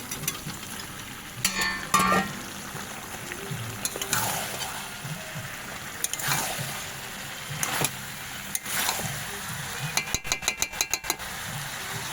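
Soybean chunks sautéing in a pan, a low steady sizzle with occasional louder spatula scrapes and clatters, including a quick burst of rapid taps near the end; no talking.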